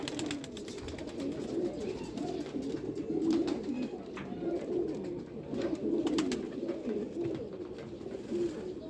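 Salara Teddy pigeons, high-quality Ferozpuri birds, cooing repeatedly in soft throaty rolls, several overlapping coos from nearby against low background clatter, with no talking.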